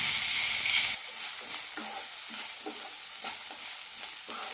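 Cabbage sautés with Kashmiri chili powder for a cabbage chutney, giving a constant close sizzle under repeated scraping and stirring strokes against the pan.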